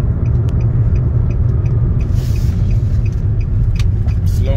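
Steady engine rumble and road noise from a Nissan Sentra being driven and slowing down, heard from inside the car as a continuous low drone with a faint rhythmic ticking over it.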